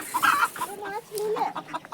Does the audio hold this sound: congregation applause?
no